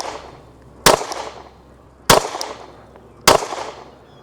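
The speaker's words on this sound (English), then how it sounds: "Go ahead, empty the mag." Three sharp handgun shots from a budget pistol, spaced about a second and a quarter apart, each a loud cracking report with a short ringing tail.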